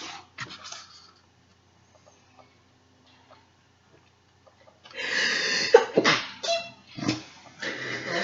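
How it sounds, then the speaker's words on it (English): A single loud, forceful sneeze bursts out after a few quiet seconds, preceded by faint scattered sounds and followed by trailing noisy breaths. "A powerful, powerful sneeze."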